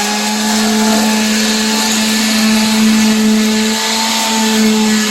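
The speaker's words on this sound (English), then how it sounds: "So just take a palm sander. I got just 220 on this now. Go ahead, Shelly. And just sand all your edges." A palm sander fitted with 220-grit paper smooths the edges of a wooden skid, giving off a loud, steady, unbroken motor whine with a constant pitch for the whole stretch.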